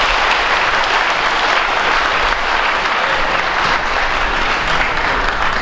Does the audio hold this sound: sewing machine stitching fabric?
no